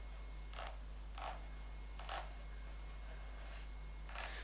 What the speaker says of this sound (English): This is where a good pair of scissors really comes in handy.